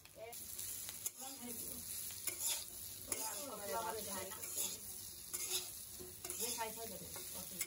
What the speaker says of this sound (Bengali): তো এখন আলু আর এই সয়াবিন দুইটাই সুন্দর মতো কষিয়ে নিতে হবে।